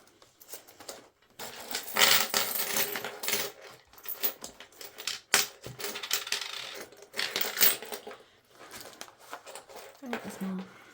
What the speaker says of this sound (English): And then I am going to empty my coins out, so I do apologise for the noise.